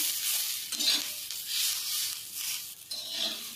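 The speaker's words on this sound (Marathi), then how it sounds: "आपण त्याच्यामध्ये थोडी कोथिंबीर घालूया आणि ती पण याच्यामध्ये फ्राय करून घेऊया।" Onion, ginger, garlic, chilli and coriander fry in a pan for a Karwar-style oyster masala, a loud, close, steady sizzle swelling as the mix is stirred, with no talking.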